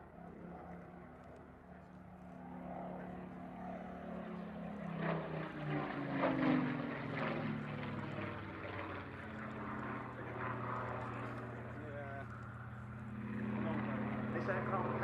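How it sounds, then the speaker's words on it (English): A Spitfire Mark 19 of the Battle of Britain Memorial Flight, powered by a 37-litre Rolls-Royce Griffon engine, drones past at the RAF Cosford 2023 air show, its rough propeller roar swelling and fading under a commentator's voice. "This aircraft powered by the Rolls-Royce Griffon engine,"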